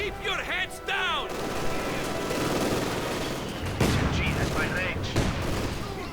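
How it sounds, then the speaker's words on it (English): Intense gunfire and rifle grenade explosions in a competitive strategy video game battle, with dense overlapping shots and several heavier booms, loud and continuous, with a voice speaking over the start. "Rifle grenades flying through the air."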